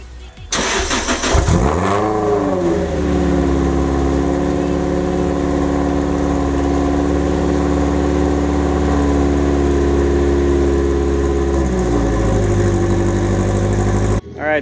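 A car engine cranks and catches after a battery change, revs briefly, then settles into a steady loud idle for several seconds before revving slightly again near the end.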